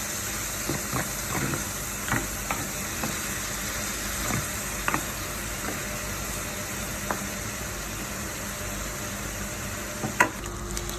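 Homemade Filipino pork adobo with soy sauce sizzles steadily in a pan while being stirred. Scattered scrapes and clicks of the utensil against the pan sound close over the continuous frying hiss.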